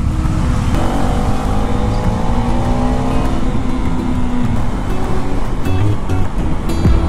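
Vehicles roll through water on a flooded Delhi road, throwing up a continuous loud surge and splash, with traffic rumble throughout.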